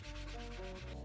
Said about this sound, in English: Now we have a Mr. Clean Magic Eraser that we're going to use to get rid of all those scuff marks.